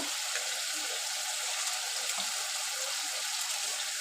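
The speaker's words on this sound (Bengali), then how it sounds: "এবার আমি মুগ ডালটা ধুয়ে নেব।" Moong dal lentils are washed in water, a steady splashing, running-water wash that stays even and fairly close throughout, with no talk.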